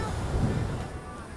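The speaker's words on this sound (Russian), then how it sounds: "волны плескаются около берега" Ocean waves splash near the shore at Kovalam beach in Kerala, India, a steady wash of surf with a soft swell in the middle, mixed with wind noise.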